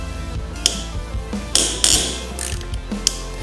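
A ratchet wrench loosens the front axle bolts on a motorcycle, giving short bursts of rapid clicking and a few sharp metallic clanks, close up and without speech.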